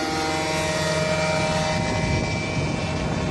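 Super Goat motorglider taxiing on a bumpy, windy day, its engine and propeller giving a steady, loud droning hum with a constant pitch and no pauses.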